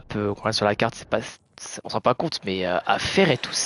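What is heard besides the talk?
No everyday noise stands out behind the speech.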